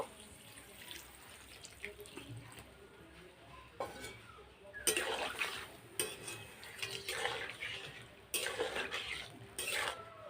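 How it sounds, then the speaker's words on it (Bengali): Water poured into a cooking pot of shukto with milk, a gurgling splash in short bursts near the microphone, with clinks of utensils between pours. "এবার অল্প একটু জল দিয়ে দেব।"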